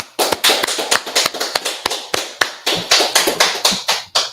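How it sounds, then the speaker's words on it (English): A small group of people claps in a hotel ballroom gathering, a quick run of sharp, close handclaps in an uneven rhythm that stays loud throughout, with no talking over it. "let's clap it up"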